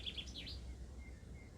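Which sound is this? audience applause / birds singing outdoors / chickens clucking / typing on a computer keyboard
birds singing outdoors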